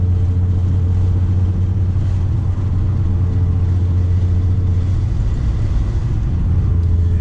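Race car driving fast on a track, heard from inside as a steady loud low engine drone with road rumble, continuous and close, without speech.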